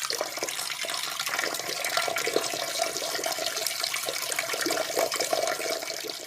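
A urine-trickle sound effect plays as a steady, close stream of running water splashing into a bowl, continuous and moderately loud.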